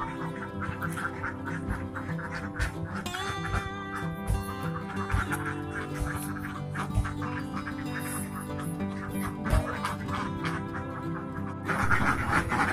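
Laying ducks crowd a pen, quacking continuously in a dense overlapping chorus of near and distant calls, with some scuffling and a louder burst near the end.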